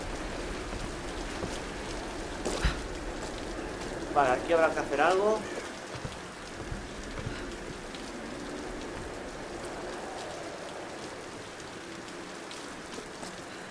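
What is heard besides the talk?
heavy rain in video game Tomb Raider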